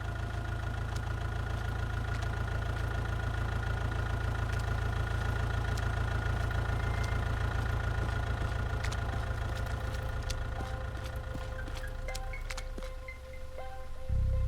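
A tractor engine idles in the video game Within the Unknown, a steady low rhythmic chugging with a mechanical knock, loud and close, running alone without speech and dipping briefly near the end.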